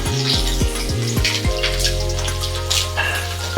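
Whole fish sizzling in hot oil in a home kitchen pan, a steady bright frying hiss running throughout, with a few low thumps at the start as pieces settle, fairly close and loud with no talk.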